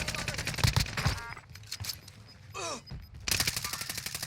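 Gunfire from an AK and a short-barrel MP40 in Warzone comes in rapid automatic bursts with a pause in the middle. A voice talks over the shots throughout.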